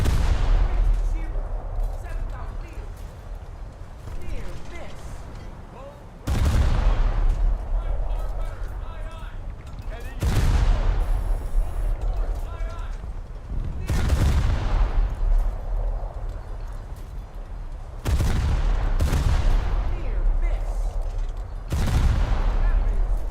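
Heavy naval gunfire in War Thunder's Naval Realistic Battles, with repeated booming salvos at irregular intervals, each a loud broadband blast decaying into a rumbling roar over a constant low background of ship noise.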